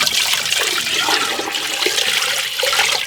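Water pours steadily into a cooking pot holding a whole hen and bouillon for chicken and dumplings. The gush is continuous and close, with no talking over it.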